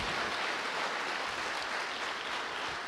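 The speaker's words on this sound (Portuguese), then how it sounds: "Dá um aplauso a ele" A church congregation breaks into dense, continuous applause during an evening service, a thick and even wash of clapping that fills the whole moment with no pause.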